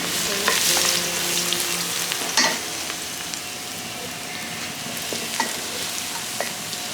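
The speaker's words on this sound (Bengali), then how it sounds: "দিয়ে দিচ্ছি তেল, এখানের মধ্যে দিয়ে দিচ্ছি রসুন" Grated garlic sizzles in hot oil for mango pickle, a steady close crackle with a few clinks of a utensil against the pan.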